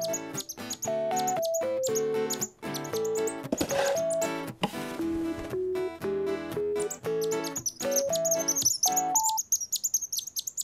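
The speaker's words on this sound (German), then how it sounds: "Das ist ja ein Vogelbaby." A cartoon baby bird chirps in a rapid run of bright, high tweets, some sliding up or down in pitch, clear and close with short gaps between bursts and no talking.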